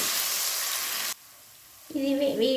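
Ginger garlic paste frying in a pan for a mutton biryani, a loud steady sizzle that cuts out abruptly, then a short quieter hiss with faint clinks returning near the end.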